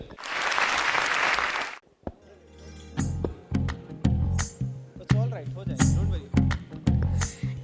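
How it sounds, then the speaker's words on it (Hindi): A TV talent show audience applauds during a singing episode: a dense burst of clapping for about two seconds, close and loud, then it stops and music begins. "जोरदार तालियां हो जाएं"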